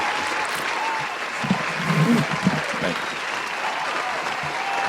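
Round of applause from a podcast studio crew, a brief burst of clapping mixed with a quick spoken thanks over steady room noise.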